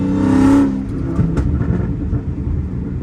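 Chrysler 300 Hellcat under hard acceleration, a loud engine roar that cuts off sharply at a gear change and then settles into a deep, rumbling drone heard from inside the car.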